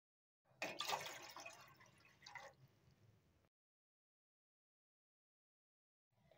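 About two and a half cups of water are poured into a cooking pot for lemongrass tea. A splashing, trickling pour runs for roughly three seconds, close by, then stops abruptly into silence.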